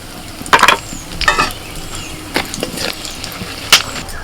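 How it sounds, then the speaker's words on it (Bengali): Bay leaves, dried chillies and whole garam masala hit hot oil for tempering, giving a few sharp crackling sizzle bursts between quieter stretches of soft frying hiss, close and fairly loud. "তেলের মধ্যে ফোড়নে দিচ্ছি তেজপাতা শুকনো লঙ্কা আর গোটা গরম মশলা"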